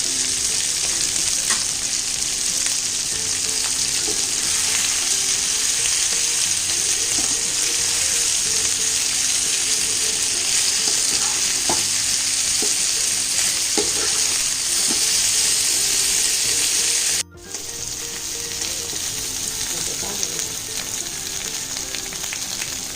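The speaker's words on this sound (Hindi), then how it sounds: "अब इसको हम थोड़ी थोड़ी देर पर चलाकर गोल्डन ब्राउन होनेंगे" Colocasia root (arbi) frying in hot oil with ajwain, a steady loud sizzle running throughout with faint scraping stirs, briefly dipping near the end.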